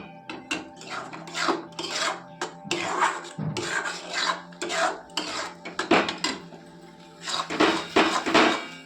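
A date palm jaggery filling is stirred in a pan until dry: a spoon scrapes the pan in repeated close, uneven strokes with short pauses between them.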